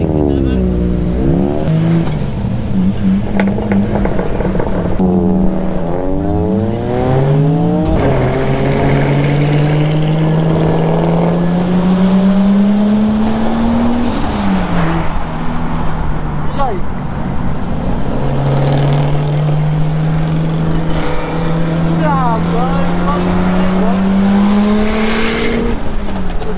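A 700 bhp Nissan Skyline R33 drives at a car meet, its engine droning and revving up and down loudly and close, with people talking over it.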